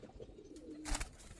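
An Army Nor Giribaz pigeon calls with a brief, low coo, faint and close, followed by a short rustle.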